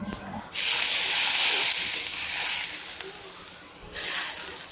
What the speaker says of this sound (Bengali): গরম করে নেওয়ার পর আমের আচারটাতে ঢেলে দিয়ে দিচ্ছি